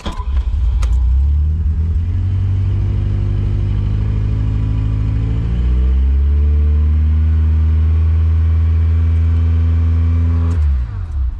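A cold 1980 Ferrari 308 GTSi engine runs at a loud, steady fast idle close by, its pitch sliding upward as the revs climb midway, then holding high until it cuts off near the end.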